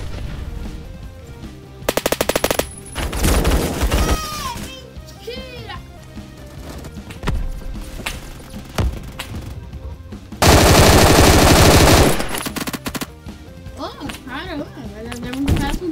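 Gunfire from a gun in the Roblox video game comes in a few loud bursts, with a long sustained burst near the end, as someone talks excitedly over and between the shots.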